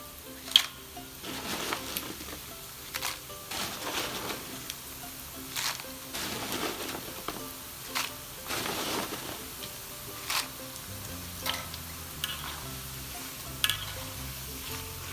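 Popiah wrappers frying in hot oil: soft sizzling and light crackling, with intermittent bursts and occasional clinks, steady and close without any talking.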